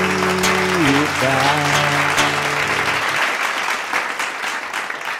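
An audience applauds at a Brazilian music performance, broad clapping swelling as a sung note and instruments end, then continuing alone and easing off slightly.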